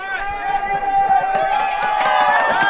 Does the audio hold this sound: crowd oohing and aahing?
yes